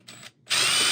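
Power drill boring a bolt hole for a servo mount on a skeleton prop: a brief whir, a short pause, then the motor spinning up loud and steady at close range.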